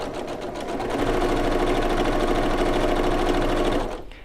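Sewing machine stitching patchwork pillow fabric, a close, fast and steady mechanical whirring chatter that speeds up, runs evenly for a few seconds, then stops abruptly.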